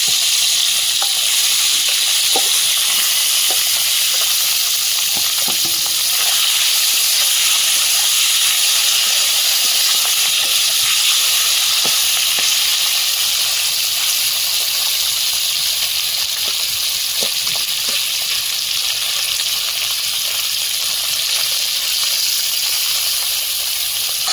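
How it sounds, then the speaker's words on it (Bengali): Steady, loud sizzling and hissing of pencil bogo fish frying in hot oil in a wok, with occasional soft pops and clinks, continuing without any talking. "কড়াইতে তেল দিয়ে মাছগুলো ভাজতে দেবো"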